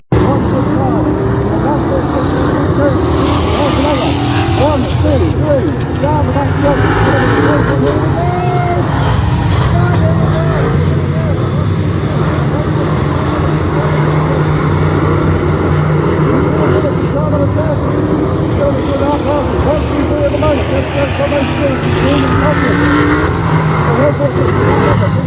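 BriSCA V8 stock cars race at Mendips Raceway, a continuous roar of engines rising and falling as cars circuit at a distance, with crowd and voices mixed in throughout.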